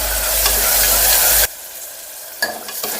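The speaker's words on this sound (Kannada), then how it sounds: "ಟೊಮೆಟೊನು ಚೆನ್ನಾಗಿ ಫ್ರೈ ಆಗಿದೆ." Chopped tomato and onions sizzle loudly in a hot pan while being stirred, a dense frying hiss that cuts off abruptly, followed by quieter scraping and a few faint clinks.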